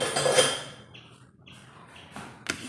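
A spoon stirs and presses tomato pulp through a sieve for homemade ketchup, giving soft scraping and clinking metal-on-mesh sounds that come and go, with a few sharper taps near the end.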